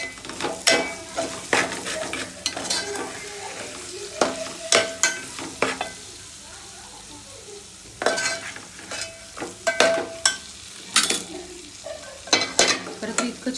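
A spoon stirring biryani masala mixture in a sizzling pan, with repeated scraping and clinking strokes at an uneven rhythm over a steady background hiss.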